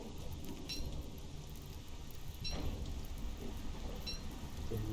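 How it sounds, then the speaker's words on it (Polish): Heavy rain pours in the video game Don't Starve Shipwrecked, a steady hissing downpour with faint rumbles and a few sharper drop sounds. "O, spora ulewa."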